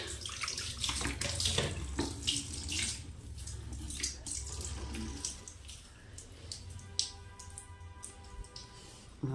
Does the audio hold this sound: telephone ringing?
no